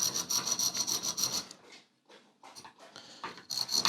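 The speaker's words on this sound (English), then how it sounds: "And I'm using a spiral bit here" A rotary tool fitted with a spiral bit carves a real bone guitar nut by hand, giving close, gritty rasping and whining bursts that pause briefly mid-way before grinding resumes.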